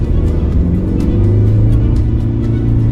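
A 2022 Mercedes-Benz C300d diesel engine revs loudly under acceleration, a strong, steady, rising drone heard close from inside the car, with no speech over it.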